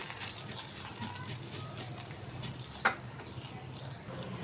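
A masala paratha stuffed with onion, tomato and spices sizzles steadily on a hot pan, a soft continuous frying hiss with one brief sharper tick near the end, and no talking.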